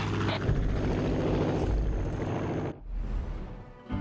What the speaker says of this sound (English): Addie's got her chopper all fired up